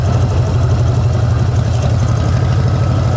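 A chopper motorcycle idles steadily and closely on a ride around Depok, Indonesia, with a deep, even engine throb and no voices.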